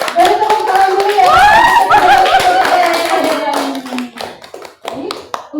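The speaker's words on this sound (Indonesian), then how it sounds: "Oke, dari tepuk tangan dulu ya." Audience clapping at an Indonesian teacher-training talk show on deep learning, a scattered burst of hand claps that thins out toward the end, mixed with voices throughout.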